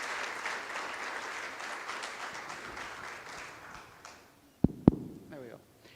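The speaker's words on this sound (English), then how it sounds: "Please give a round of applause to make our forum" A forum audience at a C20 midterm meeting applauds steadily for about four seconds, then the clapping fades out, followed by a couple of sharp knocks near the microphone.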